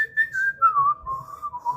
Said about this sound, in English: It had the whole whistling thing